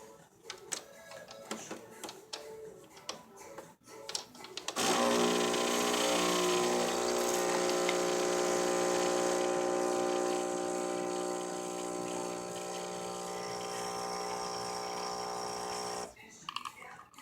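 Verismo coffee machine brewing: after some brief handling clicks, a loud, steady pump hum starts abruptly and runs for about eleven seconds before stopping, followed by a few faint clicks.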